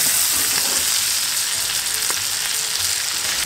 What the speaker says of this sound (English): You can just see that fish just soaking in all that butter.